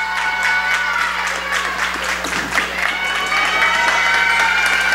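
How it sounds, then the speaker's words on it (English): Crowd clapping and cheering in the stands at a girls' high school basketball game, Greenville Lady Greenwave against West Carrollton Pirates, sustained loud applause with a voice heard within it. "they might be clapping for that"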